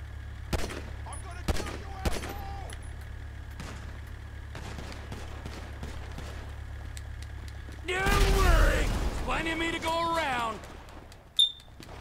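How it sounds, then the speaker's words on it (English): Gunfire aimed at a propane tank in GTA V, several sharp shots early on, then a louder burst with a voice over it and one last sharp crack near the end. "I try to hit that propane tank right here."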